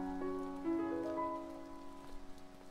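Steady rain patters through a scene in the video game To the Moon, a soft continuous wash beneath gentle sustained musical tones.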